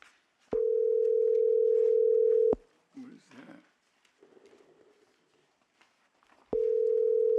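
Telephone dial tone on a call-in line during a hearing: a steady flat tone sounds for about two seconds and stops, followed by faint voices and noise, then the same tone returns near the end.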